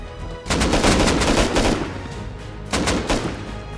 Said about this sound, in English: It's just a barrage of 556 going off.